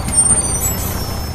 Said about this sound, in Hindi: कुछ देर चलने के बाद बस फिर से रुक जाती है।